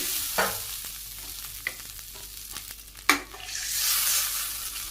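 Curry added to hot oil tempered with mustard seeds sizzles steadily in a pan, with scattered clinks and scrapes of a spoon stirring it, ending in a louder surge of frying hiss.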